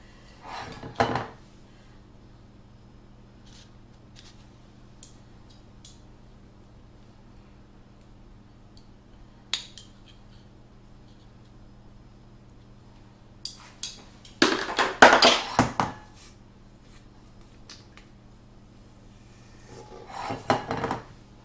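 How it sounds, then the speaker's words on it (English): A spatula scrapes leftover cake batter from the sides of a baking tin in a few short bursts of rasping contact, separated by long quiet stretches, close and fairly clear. "See if we can get one more, scrape one more out of here along the sides."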